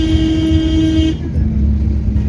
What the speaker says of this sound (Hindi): और हॉर्न बजाओ बच्चों को।